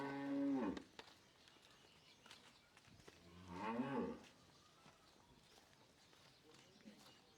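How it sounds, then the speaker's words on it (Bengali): A Holstein Friesian dairy cow gives two deep, drawn-out moos, a few seconds apart, heard at a moderate distance alongside faint background noise. "এটা অরিজিনাল একটা হলস্টাইন ফ্রিজিয়ান গাবি ভাই।"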